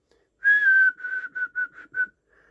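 Whistling into a Galaxy DX95T2 CB radio: a long held whistle note followed by four short whistled bursts, clear and close, with no talking.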